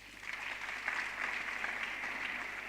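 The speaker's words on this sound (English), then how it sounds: "Those deserve a hand of applause." Audience applause at a university autumn graduation ceremony, heard as a faint, distant patter of clapping that swells slightly and holds steady, with a low steady hum beneath it.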